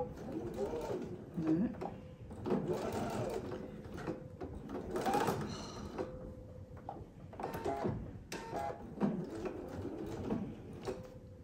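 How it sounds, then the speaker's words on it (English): A sewing machine stitches a quarter-inch seam across a fabric box pouch, its mechanical whirring running in bursts throughout with voices in the background. "we're going to sew 1/4 inch seam allowance all the way across from there."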